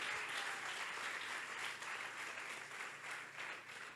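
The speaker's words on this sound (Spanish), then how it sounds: "Dale un aplauso a Dios" A church congregation applauds during a bilingual holiness and revival conference, a continuous wash of clapping from many hands, steady and fairly distant, with faint low tones underneath.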